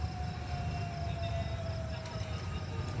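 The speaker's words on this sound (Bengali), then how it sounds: "সাইরেন বাজছে" A long, steady civil defense siren wail drones from a distance during a mock drill, holding one pitch over a low background rumble.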